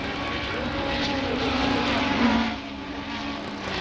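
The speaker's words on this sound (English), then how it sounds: "Forbes Robinson's engine is coughing on the final turn." A 1975 Formula Atlantic race car engine drones loudly, then coughs, sputters and drops off briefly on the final turn before continuing, heard from a distance with no talking.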